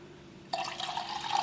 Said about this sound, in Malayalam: ഇതിലേക്ക് കുറച്ചും കൂടി വെള്ളം ചേർക്കുക.